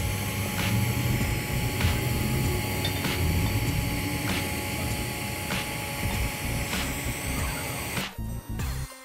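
Arc welding a two-bead cap pass on a socket olet at 140 amps, a steady dense crackling sizzle that holds for about eight seconds with faint periodic pulses, alone, before cutting off into brief clatter.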